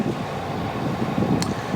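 Wind buffets the microphone aboard a Jeanneau 51 or 54 sailboat while it motors along a channel toward a slip, a steady loud rushing roar with no one speaking.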